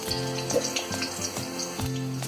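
Small onions dropped into hot coconut oil crackle and sizzle for Kerala-style beef fry, with clinks of a utensil against the pan.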